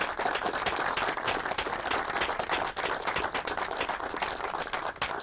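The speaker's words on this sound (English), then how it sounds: "I'd like to conclude with a round of applause for the NIST and WWV" An audience at a museum presentation applauds, giving a steady round of clapping that is moderately loud and continuous for several seconds.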